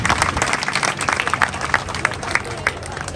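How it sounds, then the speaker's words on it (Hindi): A burst of crowd applause at a clerks' strike rally in Sonipat, India, lively and uneven, with distinct claps popping out as it gradually thins toward the end. "पीजीआई के साथियों के लिए भी एक बार जोरदार तालियां।"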